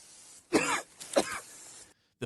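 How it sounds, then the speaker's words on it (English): A man coughs and hacks from pepper spray during a bear encounter: two harsh, close coughing bursts, each about half a second long, with a short gasp at the end. "The pepper spray is what's making him cough."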